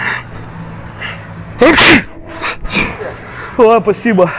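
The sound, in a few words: sneeze as a prank on an escalator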